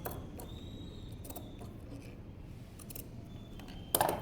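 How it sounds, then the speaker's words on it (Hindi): Scissors snip through blouse fabric for a princess-cut, stand-collar blouse, with a few quiet, sparse cuts and one sharper snip near the end against a soft room hiss. "यहाँ पे भी हमें कट लगाने हैं,"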